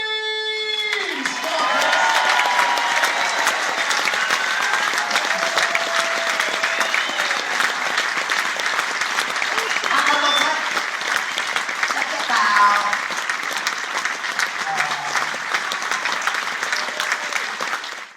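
A theatre audience at the Alhambra gives sustained loud applause and cheering for the children of a pantomime group, a dense wash of clapping after a brief voice at the start.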